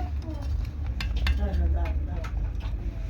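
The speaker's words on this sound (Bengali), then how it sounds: "তো আমি এখন একটুখানি একটু নাড়াচাড়া করছি।" Spoon clinking and scraping in a pot as pitha soaking in thick milk is stirred, soft repeated metallic taps at close range under a quiet kitchen background with some talk.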